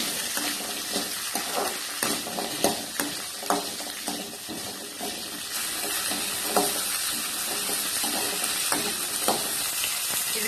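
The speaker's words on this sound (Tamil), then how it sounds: "நல்லா சவக்க வதக்கிக்கணும்." Small onions sauté in a pan for an anchovy curry, with a continuous sizzle punctuated by repeated spatula scrapes and taps against the pan, close and fairly loud.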